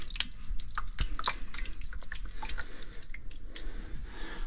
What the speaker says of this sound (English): you could maybe put this in a sprouting bag and squeeze it out just to get that last little bit